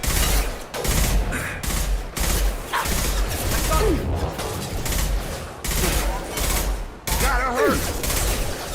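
Heavy gunfire from a Mass Effect 2 battle, dense and continuous with bursts and loud shots filling the whole stretch, while voices call out over the combat.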